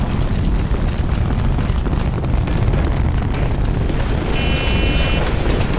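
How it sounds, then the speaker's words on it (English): A rocket launches on the Ascension map of Black Ops zombies, a continuous loud roaring rumble with dense low thunder and hissing blast that holds steady for several seconds, close and overpowering, without speech. "Warning, launch in progress"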